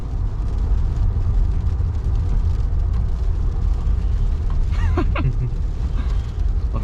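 A 2020 Chevy Corvette engine drones steadily and loudly from inside the car during a drive, a continuous low rumble with a brief rising rev or shift whine near the end.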